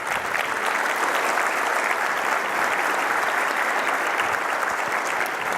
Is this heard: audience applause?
yes